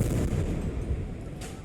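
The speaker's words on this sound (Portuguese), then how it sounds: "Após o som das explosões, o das ambulâncias, do caos" Explosions from the Israel–Palestine conflict: a dull, rumbling blast with heavy low booming that fades over under two seconds, heard at a distance.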